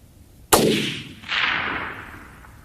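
A custom Tikka 7mm SAUM rifle firing a 180-grain ELD-M round at long range: one sharp, loud shot followed by a long rolling echo that fades away, with no talking.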